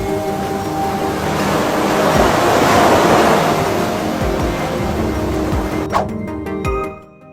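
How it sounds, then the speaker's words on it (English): Storm waves with roughly 6-meter swells and 30-knot winds tossing an Indian fishing boat: a loud, continuous roar of surf and wind that swells and fades, ending in a few sharp clicks. "An Indian fishing boat that was tossed around by the waves almost capsized."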